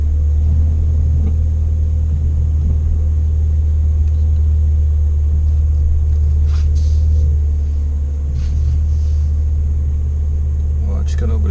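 A Ford Fiesta ST with a lowered front pulls out and drives off, its engine a steady low rumble throughout with small shifts in tone and some faint background noise.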